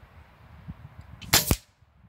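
Two sharp, loud cracks close together from a Diana Stormrider 5.5 mm air rifle firing at a 100 m target, standing out over a quiet low outdoor rumble.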